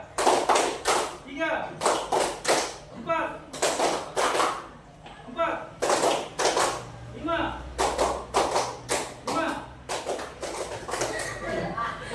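A classroom group of students claps in a rhythmic counting game, bursts of sharp group claps in quick counted sets separated by short pauses, with a teacher's voice speaking between rounds.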